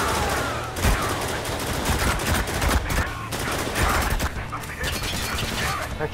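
Rapid machine gun bursts in Spec Ops: The Line co-op gameplay, dense crackling gunfire that fills the whole stretch with sharp repeated shots and impacts, loud and continuous, with talk mixed in.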